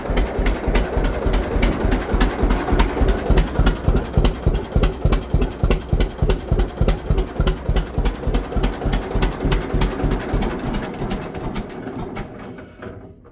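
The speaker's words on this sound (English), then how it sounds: "The old trusty 2-cylinder. She's alive." An old two-cylinder engine runs close up with a steady, bouncing beat of rapid firing pulses that holds for most of the stretch, then fades and cuts out near the end.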